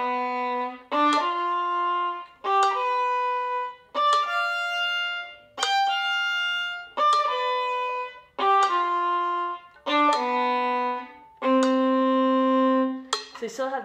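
Solo violin plays a choppy arpeggio pattern in a nervous, hurried style, with about ten short bowed note groups separated by brief gaps, close and clear.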